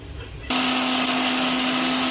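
A mixer grinder grinding coriander seeds with coconut whirs loudly and steadily after starting abruptly half a second in, with a constant high motor whine.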